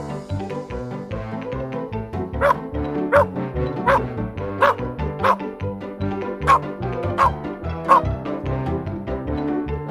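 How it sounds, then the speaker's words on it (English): A dog barks repeatedly in a fairly steady rhythm, sharp and close, over a bed of continuous music. "Dog. Say again. Dog."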